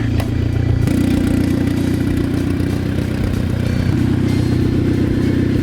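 A turbocharged Honda Civic engine runs with no exhaust attached, a loud, steady, raspy idle that steps up slightly in pitch early on and holds close and continuous.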